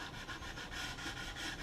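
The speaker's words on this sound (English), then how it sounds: "sanding block here with some 400 grit and just trying to sand across those areas" A 400 grit sanding block is rubbed back and forth across wood filler on a cabinet's quarter round, giving a steady, rhythmic scratchy rasp of about eight quick strokes, close up and alone.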